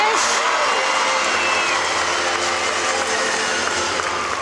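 Dense, sustained crowd applause and cheering at a college women's gymnastics meet, Alabama versus Missouri, after a strong routine finish; loud and continuous throughout.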